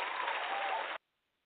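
Applause for boxer Marcus Brown after his Saturday night fight against Sean Moynihan, a steady, dense burst of clapping that holds for about a second and then cuts off abruptly into silence.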